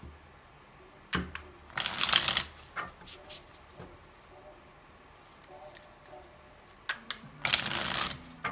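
Tarot cards are handled and shuffled in two distinct riffling bursts, each lasting about a second, close up and moderately soft, with scattered light taps and card handling in between.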